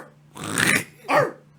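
A dog gives two short, rough growling barks a moment apart, close and fairly loud against a low steady hum.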